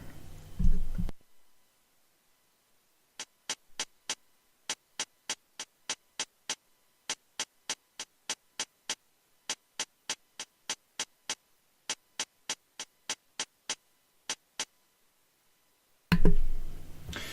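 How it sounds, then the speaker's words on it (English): A string of short, crisp hi-hat ticks through a low pass filter plays alone in a steady, slightly syncopated pattern, muted and dull at the top end. "I just put a low pass filter on just to get the hi-hat sounding more of a lo-fi feel"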